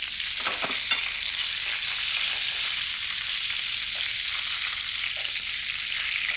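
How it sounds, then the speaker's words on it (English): Endives caramelizing in a pan of butter and olive oil give a steady, close sizzle and hiss throughout, with a few faint stirring or utensil clicks and no talking. "Caramelize the endives."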